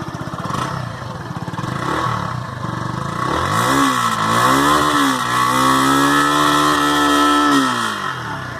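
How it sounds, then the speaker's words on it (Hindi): A Yamaha FZ S FI Version 3.0 motorcycle, BS6 model, idles with a steady exhaust note, then revs up and holds high before settling back, loud and close with no talking. "मैं आप लोगों को इसका एक एग्जॉस्ट नोट सुनाना चाहूँगा।"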